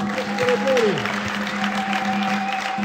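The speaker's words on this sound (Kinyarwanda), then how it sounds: "Unyemerere tuyikomere amashyi." A church congregation claps together during a service, a brief burst of applause mixed with voices and a sustained keyboard-like tone.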